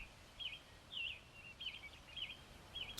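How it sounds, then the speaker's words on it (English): Bird chirps in a digging video game, a series of short bright twittering calls repeating about every half second, soft and fairly close over a faint low background hum, with no talk. "I really like the bird noise."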